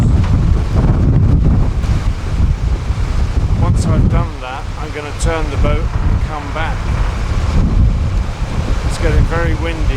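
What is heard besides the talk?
strong wind on canal by narrowboat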